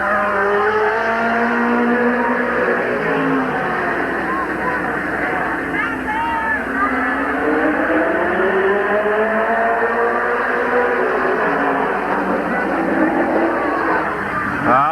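Race cars lap Midvale Speedway in 1989 with three cars left running, a continuous roar of engines that rises and falls in pitch as they pass, while an announcer talks over it throughout.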